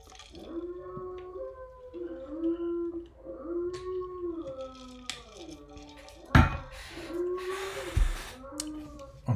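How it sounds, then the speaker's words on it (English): Several dogs howl and whine in long rising and falling cries that overlap one another, close to the mic, with a couple of sharp barks or thumps cutting in near the end. "Don't mind my dogs barking."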